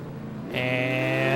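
Race cars lapping the Nurburgring in an F1 racing video game, an engine note sweeping up into a steady high whine that holds after a quick rise, near and constant.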